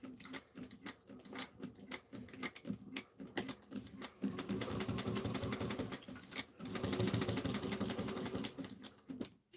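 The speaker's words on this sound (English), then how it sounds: "I'm going to use this chalk pencil real quick, this chalk pink one, and sew down the center." Sewing machine stitching down the center of a Miranda tote bag, with backstitching at the top and on the card slots: rapid mechanical stitching in short bursts, then longer steady runs, fairly close.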